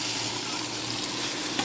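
Potatoes fry in white oil in a wok, giving a continuous close sizzle with a faint scrape of stirring at the very end.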